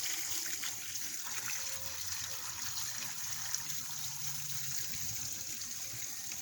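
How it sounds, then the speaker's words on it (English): Water runs gently from a tap over a freshly cleaned bluegill fillet being rinsed, a steady soft trickle with no talking. "Okay, rinse it again."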